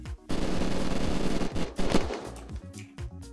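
Rapid bursts of gunfire in the video game Unturned, loud and close, with a sustained automatic volley followed by several separate sharp shots and short pauses between them.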